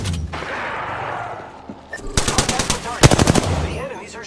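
Rapid automatic gunfire in Apex Legends rattles out in two tight bursts after a quieter stretch, loud and close with sharp repeated cracks.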